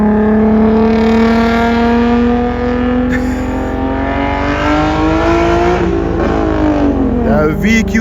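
Infiniti with a VQ37VHR engine accelerating hard nearby, loud rising engine drone climbing through gears with pitch sweeps and shifts, under excited shouting.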